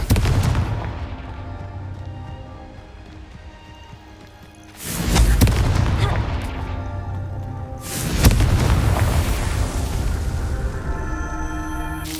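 Confringo fire spells in Hogwarts Legacy detonate as two heavy, booming explosions, each a sudden loud blast with a long rumbling tail. A lower ambient drone runs before and between them.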